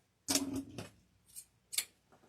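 Scissors snipping through deco mesh wreath ribbon on a Valentine's Day evergreen wreath, a few crisp close cuts in quick succession with short pauses between, then a softer final snip.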